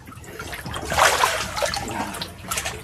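Water flows and churns through a cave passage as the level quickly rises, a steady broadband rush with louder surges near the middle and end, close and continuous with no talking.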